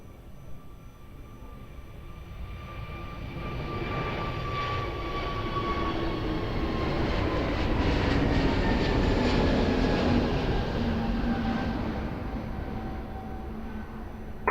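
An airliner approaches runway 02 at Lisbon Airport, its engines a loud, broad roar that swells and then slowly fades, with a high whine that drops steadily in pitch as it passes.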